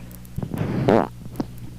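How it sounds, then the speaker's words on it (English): A drawn-out, sputtering fart from a person seated in a chair at a family Christmas gathering, a low rumble rising into a loud, rough burst near the middle, close by with no talk. "get a better fart than that"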